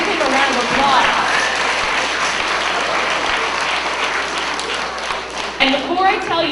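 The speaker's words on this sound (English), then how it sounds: "Give him a round of applause" School children at an elementary school assembly give a loud round of applause, a thick, sustained clatter of many small hands with excited voices mixed in, dipping briefly near the end.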